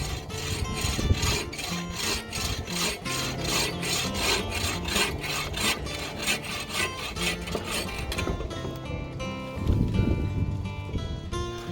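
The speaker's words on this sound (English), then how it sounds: "so let's saw this up" A handsaw cuts through a macadamia wood branch in steady back-and-forth strokes, each pass a bright rasping burst, loud and close, with the rhythm breaking off near the end.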